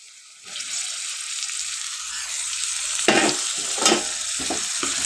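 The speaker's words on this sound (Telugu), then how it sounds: "ఈ టమాటా పీసెస్ని బాగా కలుపుకోవాలండి." Tomato pieces being stirred into ivy gourd frying in oil in a pan, a steady loud sizzle with several scraping stirs near the end, no voices.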